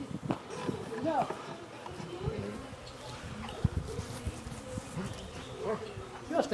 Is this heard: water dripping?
no